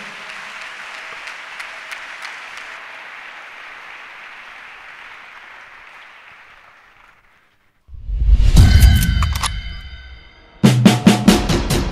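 A church congregation applauding: after a sustained tone fades to silence, loud, close bursts of clapping break out and then resume near the end.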